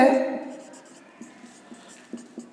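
Pen writing by hand on paper during a Class 10 board exam lesson, soft scratchy strokes with a few small taps, heard under a voice speaking close by.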